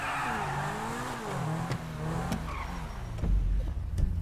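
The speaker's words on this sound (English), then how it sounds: "Donuts confirmed in GTA 5." Supercar in GTA 5 spinning donuts, with a steady loud engine drone, shifting revs, tire squeal and skidding throughout, growing heavier near the end.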